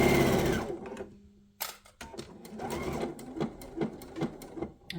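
A sewing machine stitching a fabric book wrap gives a short burst of fast stitching, stops, then restarts with slower uneven stitches and clicks, close by and fairly quiet, with no talking.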